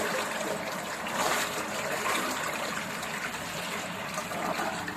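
Water runs steadily into the water pot of a LIANHE VME-500L 500-litre vacuum emulsifying mixer with steam heating, a continuous, moderately loud rushing flow lasting the full few seconds with no voices.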